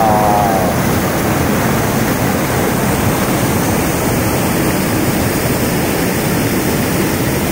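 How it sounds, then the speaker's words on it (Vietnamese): A small stream at South Lake Tahoe rushes steadily with a loud, dense, unbroken wash of flowing water, close by and heard alone. "Đây là một cái con suối tình cờ gặp được."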